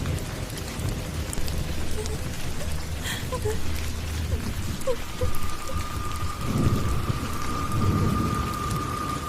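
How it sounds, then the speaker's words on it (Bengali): Heavy rain pours steadily in a Bengali horror cartoon, a dense continuous wash broken by a deep rumble of thunder, with the downpour roaring on throughout. "এদিকে বৃষ্টিও থামছে না"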